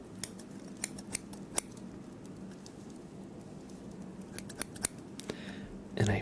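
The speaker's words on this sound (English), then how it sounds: "I found these old scissors I used to use regularly" Several crisp snips of old metal scissors, spaced irregularly with a pause in the middle, close and fairly quiet against a low background hum.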